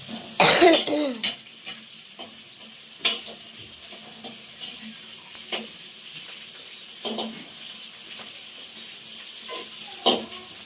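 Chilies roast in oil in a pan with a sharp burst of sizzle near the start, then quieter frying crackle punctuated by scattered metallic stirring clinks.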